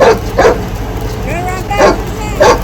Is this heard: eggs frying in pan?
no